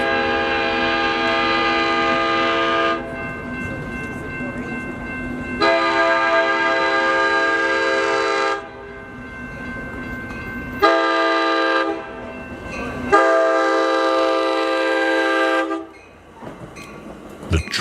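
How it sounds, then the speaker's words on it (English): An Amtrak Pacific Surfliner passenger train on the California coast sounds its horn in a long-long-short-long pattern of loud blasts, the rumble of the train approaching out of fog filling the pauses. "watch off in the distance, you'll see my train come out of the fog"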